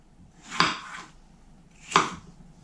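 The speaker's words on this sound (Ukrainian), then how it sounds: "Нарізаю картоплю невеликим кубиком" Two sharp knife chops on a cutting board as potatoes are cut into small cubes, about a second and a half apart, close and crisp with quiet pauses between.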